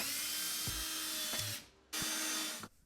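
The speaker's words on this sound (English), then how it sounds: "it allows me to easily get a few screws in the piece to tack it up" A cordless drill drives screws through a pre-drilled hole in plywood to tack up a piece during a tiny-house Murphy bed install, with two sustained high-pitched whirring bursts of the motor, each ending in a brief pause, loud and close.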